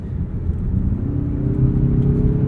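A 2021 Mazda CX-30 Turbo driving, heard from inside as a steady, loud low engine and road hum that rises slightly in pitch, with no talking.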